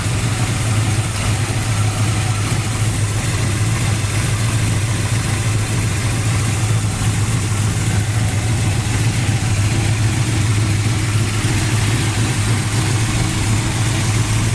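A deep, steady V8 engine of a 1972 Chevy Nova SS with aluminum heads and dual exhaust idles throughout with a strong low rumble and a constant throaty drone, near and loud, no talking.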